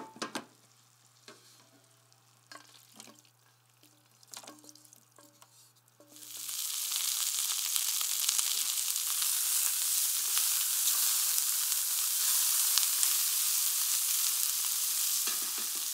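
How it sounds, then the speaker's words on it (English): White wine hits a hot pan used for browning turkey and bursts into a loud, sustained hiss after a few seconds of quiet clinks and scraping, the sizzle holding steady to the end. "Then deglaze with half the white wine. Scrape up the bits from the bottom"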